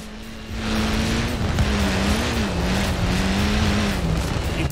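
A Ford Fiesta rally car in Forza Horizon 4 drones steadily on a gravel route, its engine holding a high, slightly wavering pitch through short gears, loud and continuous with the rumble of tyres on loose stones.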